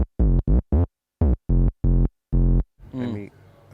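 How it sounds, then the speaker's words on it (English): A synth bass with no envelope release plays seven short, deep notes in a quick, uneven rhythm, each one cutting off abruptly into silence. A voice briefly takes over at the end. "Without the release, it sounds like that."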